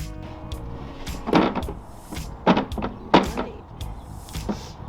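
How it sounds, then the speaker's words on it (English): A drawer in a particle board nightstand being tugged and jostled, producing several scraping, knocking bursts of wood rubbing against wood at irregular intervals, close up and moderately loud. "Trying to take the drawer out"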